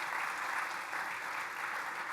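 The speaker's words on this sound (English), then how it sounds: "another round of applause for our philanthropic sponsors" An audience at a summit opening session applauding the sponsors, a dense, even wash of clapping from many hands held steady for a couple of seconds at a moderate distance.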